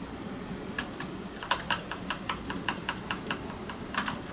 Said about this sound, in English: this is default keycaps on a cheaper brown keyboard